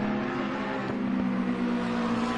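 A Ferrari race car engine at the Barcelona-Catalunya circuit in a racing video game roars continuously at high revs, close and loud, with a brief dip and a pitch shift partway through.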